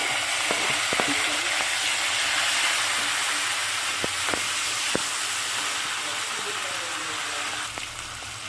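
Tomatoes frying in a pan with onions for sambar, a dense steady sizzle and hiss close up, broken by a few faint clicks and stirring knocks.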